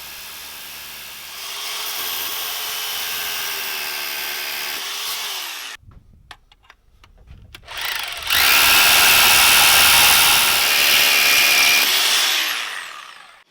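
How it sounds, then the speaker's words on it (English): A short hammer drill bores anchor holes for a security lid's bolt brackets, two loud sustained bursts of grinding drilling separated by a brief pause with small clatters. "Drill out the holes for the anchors using your shorter hammer drill bit"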